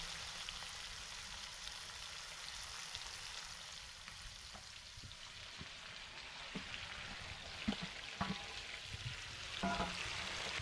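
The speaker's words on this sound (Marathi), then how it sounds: "आपल्याला गरमागरम तेलामध्ये टाकायचं. मग ते मस्त फ्राय होतं." Kaleji pota, goat liver and tripe, sizzling in hot oil in a pan, a faint steady crackle with occasional sharper pops and stirring scrapes toward the end, no voices.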